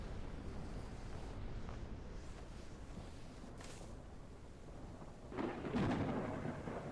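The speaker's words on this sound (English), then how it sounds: "Ooh, thunder. Thunder snow." Thunder rumbles during a snowstorm in the Snow Plow Simulator video game, a low rolling boom over steady storm noise that swells near the end.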